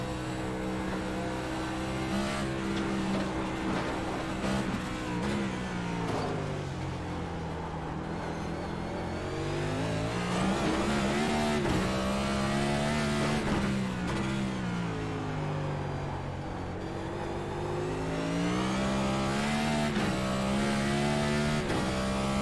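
Race cars on the Chicago Street Course in iRacing, engines droning and revving continuously, pitch rising and falling through gear shifts and corners, loud and close for the whole stretch with no talking.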